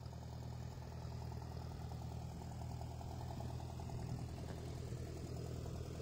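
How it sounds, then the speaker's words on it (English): Massey Ferguson tractor idling during loading onto a trailer, a faint, steady low engine rumble with a constant hum and no voices. "Here we go, loading the tractor."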